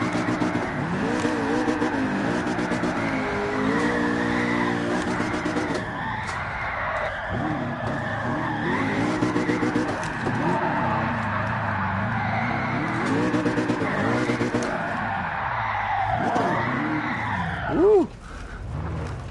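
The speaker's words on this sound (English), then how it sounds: "God, that thing blasts the limiter on free rev." A race car engine in Gran Turismo Sport screams at high revs with tyres squealing and sliding, the pitch swooping up and down as it repeatedly bounces off the limiter, loud and continuous throughout.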